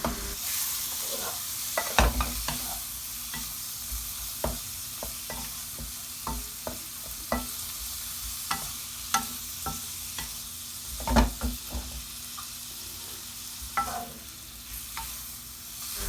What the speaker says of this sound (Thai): จะผัดจนกว่าตัวกุ้งจะเป็นเนื้อสีส้มนะคะ